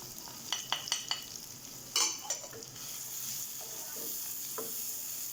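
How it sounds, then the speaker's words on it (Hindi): Spices for a potato bhujia curry frying and being stirred in a pan: a few close scraping clinks of a utensil against the pan give way to a steady, hissing sizzle that holds to the end. "इसको आपने 1 से 2 मिनट के लिए भूनना है, इसी मसाले को अच्छे तरीके से।"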